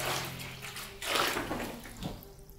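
Water poured onto an electrical outlet socket gives a continuous rushing, hissing splash that swells in two louder surges, close and steady, with no talking.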